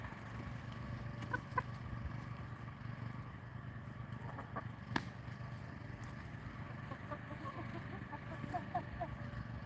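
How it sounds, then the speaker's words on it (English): Chickens clucking softly in a homestead coop with roosting poles, a few faint scattered clucks over a low background rumble. "I really enjoy having the chickens."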